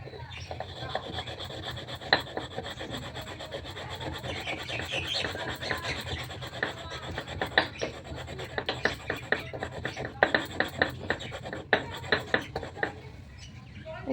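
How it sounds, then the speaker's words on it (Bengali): Sandalwood is rubbed against a stone to make paste, giving a close, repeated scraping and rasping whose strokes grow more distinct and rhythmic toward the end, with faint background sounds. "আগে চন্দন বেটে নিই।"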